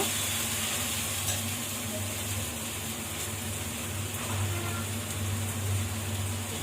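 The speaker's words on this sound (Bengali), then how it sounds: "পেঁয়াজ বাটা, আদা বাটা আর রসুন একবারে দিয়ে দিচ্ছি।" Onion, ginger and garlic pastes sautéing together for egg curry, a continuous, even sizzle with a low hum underneath that holds steady throughout, with no voices.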